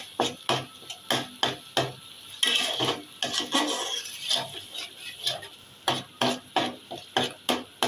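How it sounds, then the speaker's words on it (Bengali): Spicy mutton curry is sautéed in a pan, a spoon scraping and knocking in a steady rhythm of repeated strokes over a soft sizzle, with no voices. "মানে এটাকে কষাইতে হবে,"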